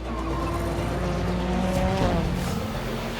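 Guy Martin's Supervan roars off on a fast lap, its engine droning loud and steady with a rising pitch sweep as it pulls away, close and continuous, with no voices.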